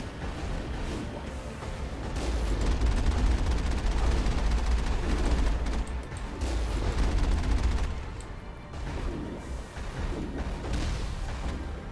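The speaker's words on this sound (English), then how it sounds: "Who is shooting me?" Sustained volleys of gunfire aimed at the player in the video game Mass Effect, rapid overlapping shots with deep booming low end, loud and continuous throughout with slight dips toward the end.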